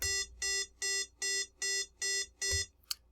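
A microcontroller-driven iambic paddle keyer sounds Morse code dits as a clear electronic beep tone: seven evenly spaced short pulses in a steady rhythm, close and loud, with a small click at the end and no speech.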